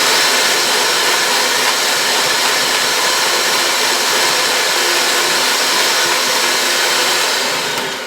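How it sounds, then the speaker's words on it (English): An electric mixer runs on high speed through chocolate cake batter, giving a loud, steady whirring drone that holds without a break and fades slightly at the very end. "I'm going to use the high speed on my mixer"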